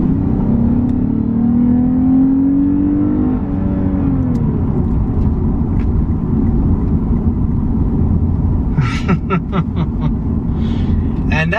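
A Lexus IS350 F-Sport climbs a mountain road, its engine note rising under acceleration before settling into a steady drone with road and wind noise, a few faint clicks near the end.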